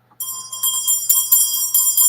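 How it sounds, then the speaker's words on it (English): A bell rings out repeatedly with a sustained metallic tone and several fresh strikes, clear and close with no talking over it. "first we're going to ring the bell. You hear that bell?"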